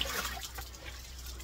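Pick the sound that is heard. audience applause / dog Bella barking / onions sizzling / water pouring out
water pouring out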